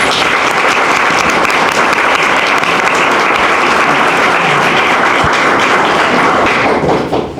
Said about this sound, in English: Please join us in a round of applause for our sponsors.